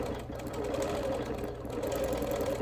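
A sewing machine quilts a wool appliquéd quilt, its needle running in a fast, steady, close-up whir with a soft mechanical rattle and no voices.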